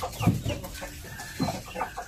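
Two-month-old Japanese shamo jugo line stag clucking in short low bursts, two stronger calls and softer ones between, close by with no speech.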